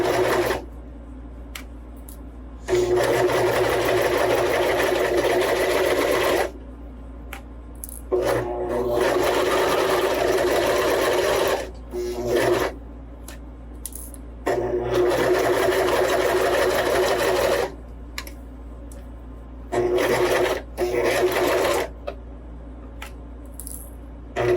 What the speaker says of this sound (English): Drop your presser foot, and then start your way back up.